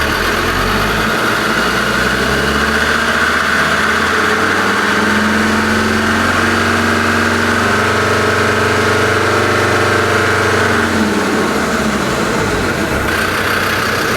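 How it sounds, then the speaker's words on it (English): Land Rover Defender TD5 diesel engine idling, then the throttle is pushed so the revs rise and hold higher before dropping back to idle; loud, close and steady with no talk. "If we speed up the engine, or we push down the throttle"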